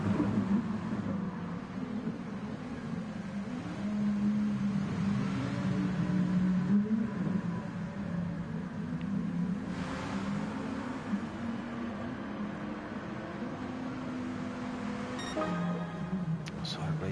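Lamborghini Gr3 race car engine from a racing video game at Circuit de Spa-Francorchamps, a steady droning roar that holds through the clip with pitch swells as the car drifts, under continuous commentator talk.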